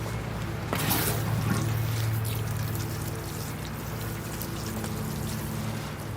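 Water pours steadily over a bonsai display stand during show preparation, a continuous close splashing flow that begins loud and then settles into a softer trickle, with no talking.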